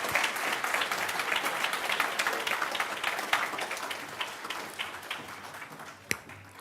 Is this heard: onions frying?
no